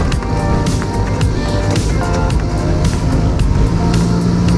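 Sokol quad bike engine accelerating while driving off-road, a loud, close, rough mechanical roar with rattling and clatter that holds steady throughout, with no talking.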